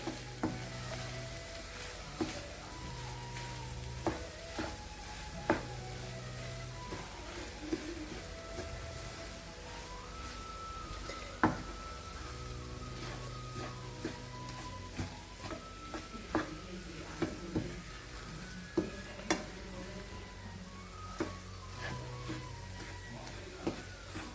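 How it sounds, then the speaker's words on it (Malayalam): Bitter gourd and potato gojju stirred in a pan, a soft continuous sizzle with repeated light clicks and scrapes of a spoon against the pan over a long stretch. "നന്നായി ഒന്നുകൂടെ ഇളക്കിയിട്ട് നമുക്ക് സ്റ്റൗ ഓഫ് ചെയ്യാം"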